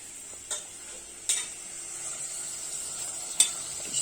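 Onions and chicken frying in a pan, giving a steady, quiet sizzle with a few sharp clinks or stirring taps scattered through it.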